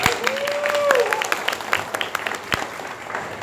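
Congregation applause at a church youth service, a short burst of clapping from a crowd with a voice briefly heard over it.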